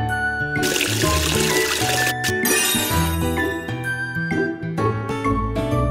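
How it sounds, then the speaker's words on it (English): Water splashing and trickling during a face-washing scene in a Tayo the Little Bus game, mixed with bright jingling game music and chimes throughout, fairly loud and continuous. "Wash their faces again with water."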